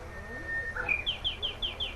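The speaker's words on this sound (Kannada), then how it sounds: "ಮೃಗ ಪಕ್ಷಿಗಳು ಬೆದರಿ ದಿಕ್ಕಾಪಾಲಾಗಿ ಓಡುತ್ತಿರುವುದು." Sound effect for startled birds scattering in a staged Ramayana play: a rising whistle-like call followed by a quick run of bright, evenly spaced chirps, fairly close and clear.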